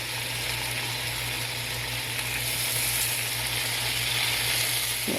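An Angus top steak fries in a hot pan with a steady, close, crackling sizzle that holds constant throughout, with no voices.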